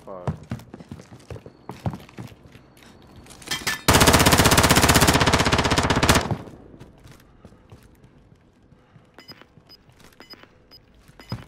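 Sustained automatic gunfire in Call of Duty: Modern Warfare, a loud continuous burst lasting a couple of seconds, framed by scattered single shots and thuds, with people talking before and after.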